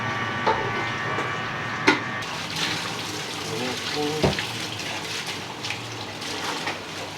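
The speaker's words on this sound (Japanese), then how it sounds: "道具を洗って。" Kitchen utensils are washed under a running tap in a small, long-established neighbourhood Chinese restaurant. Water flows steadily, broken by scattered clinks and wooden knocks as items are handled, with faint background voices.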